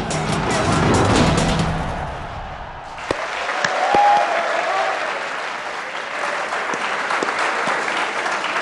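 Studio audience applause on a cricket talk show, a steady wash of clapping that dips briefly partway through, then resumes at an even level.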